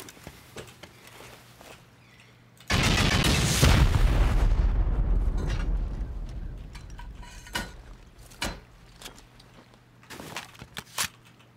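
A rocket strike lands in a video game with one sudden heavy blast and a long rumbling roar that fades over several seconds. Sharp cracks and pops follow, with lighter impacts scattered around the scene.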